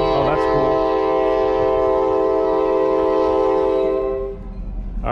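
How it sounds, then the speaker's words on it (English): A train approaching a flea market crossing blows a long, loud, sustained horn chord that holds steady for several seconds before cutting off, leaving a low rumble of the passing train. "we're getting ready for the train is coming"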